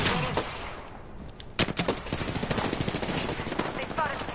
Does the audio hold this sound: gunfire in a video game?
yes